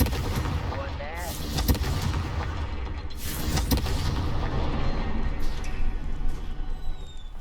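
Confringo spell blasts in Hogwarts Legacy, two loud booming explosions a couple of seconds apart amid game ambience and rumbling debris.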